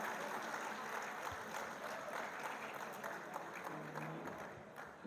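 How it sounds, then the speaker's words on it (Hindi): A mushaira audience gives a sustained round of applause welcoming poet Azhar Faragh at a golden jubilee event, a dense steady patter of many hands heard from a distance at low level. "भरपूर तालियों में इस्तकबाल कीजिए कैथारसिस आर्ट फोरम के रूहे रवां मोहतरम अज़हर फराग साहब"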